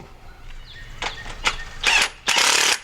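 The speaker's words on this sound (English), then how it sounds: "We can go around and tighten up all our bolts. We use a 1/2-inch drive socket." A ratchet with a 1/2-inch drive socket tightening bolts on a waterfowl hunting rig assembly, heard as several short, close, rasping clicking bursts that get longer and louder toward the end.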